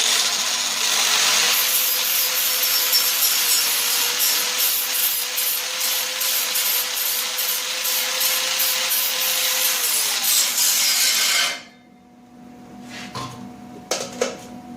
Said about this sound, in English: Let me grind that for a moment.